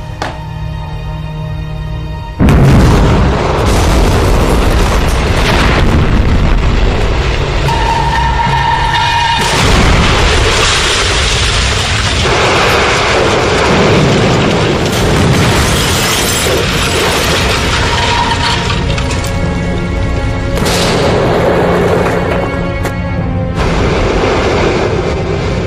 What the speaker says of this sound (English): This bomb blew the top floor off of our building